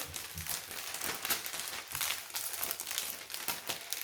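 Soft, irregular crinkling of thick transparent protective film on a diamond painting kit, close by and fairly quiet, with scattered crackly bursts and no voices.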